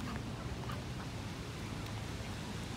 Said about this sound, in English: look how close I am to these ducks